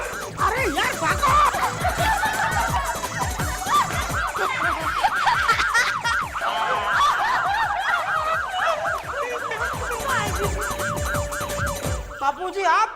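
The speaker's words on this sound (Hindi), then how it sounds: "बापूजी, आप ये सायरन आप बजा रहे थे?" A wailing police siren cycles up and down continuously, loud and near, in a comic scene, with brief laughter and voices mixed in before it cuts off abruptly near the end.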